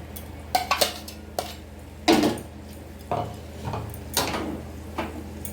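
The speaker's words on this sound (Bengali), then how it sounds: "ভেজে রাখা ঢ্যাঁড়সগুলো দিয়ে দেবো" Fried okra tipped into a pan and stirred: a series of metallic clinks, scrapes and knocks of a utensil against the pan, irregularly spaced over a faint background sizzle.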